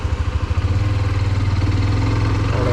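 A Hero Xtreme 125R motorcycle revs in first gear, its exhaust giving a close, loud, pulsing throb whose rapid beats settle into a steady drone for a few seconds.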